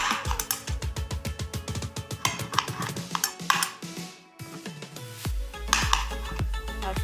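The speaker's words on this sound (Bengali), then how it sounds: "চারটে টমেটোকে আমি কেটে নেব পিস পিস করে।" A knife chops tomatoes into pieces on a board, giving a fast, steady run of crisp, close knocks with a short pause near the middle before the chopping picks up again.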